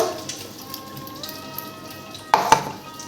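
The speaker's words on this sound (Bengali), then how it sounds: "এখানে আমি পেস্ট করে রেখেছি আদা রসুন কাঁচা লঙ্কা পেঁয়াজ সব দিয়ে দেবো মশলাটা পুরো দিয়ে দেবো" A ginger, garlic, green chili and onion paste frying in a pot gives a faint, steady sizzle, then two sharp utensil clinks near the end.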